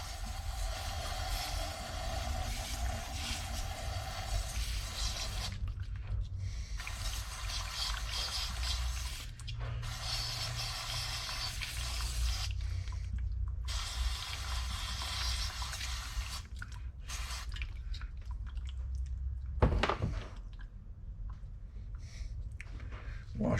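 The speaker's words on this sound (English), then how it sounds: "take some brake clean and you wash it out like that" Brake cleaner sprayed in a steady hissing stream to wash out a motorcycle brake part, a continuous near spray broken by short pauses and bursts, with a brief knock near the end.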